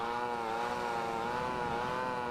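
A Honda Supra motorcycle engine in GTA Vice City Stories drones steadily at a constant idle-like pitch, a buzzy, harmonic-rich hum that holds unchanged and fairly loud throughout, with no talk over it.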